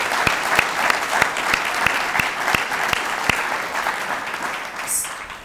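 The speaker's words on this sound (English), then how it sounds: "Can I have a round of applause?" A crowd applauds at a chamber of commerce gift announcement, a steady wash of many hands clapping with a few sharper claps standing out, fairly loud and sustained throughout.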